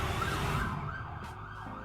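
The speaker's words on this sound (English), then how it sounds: "I don't know if you hear the sirens" Emergency vehicle sirens wail outside, a steady rising-and-falling tone heard from a distance over a low road rumble, with no one speaking.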